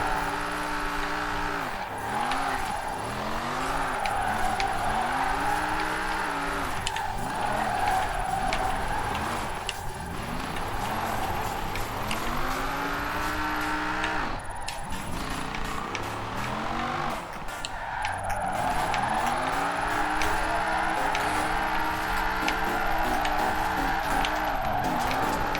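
Holden VL Commodore Group A SV from 1988, fitted with a V10 engine, driven hard in Forza Horizon 4: a loud, continuous engine note rising and falling through repeated gear shifts, with tire noise over the whole run.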